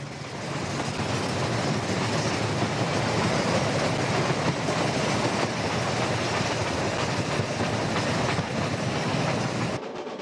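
Steam special train runs along a New Zealand railway line near Wanganui National Park, a steady loud rumble of rolling wagons with faint clickety-clack of wheels, unbroken for ten seconds.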